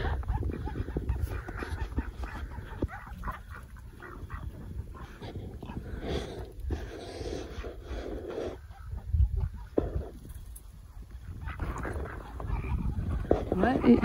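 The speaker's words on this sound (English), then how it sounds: "Chickens and the ducks aren't too happy with the weather today." Chickens and ducks on a snowy off-grid homestead in Canada, their clucks and calls faint and scattered beneath steady outdoor noise and a person talking.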